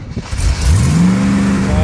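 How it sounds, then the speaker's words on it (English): An engine fires up after a warm-up to about 60 degrees and revs under light throttle before a launch, a loud rising drone that climbs in pitch and then holds steady, close by. "the engine fires up very nicely and sounds very good"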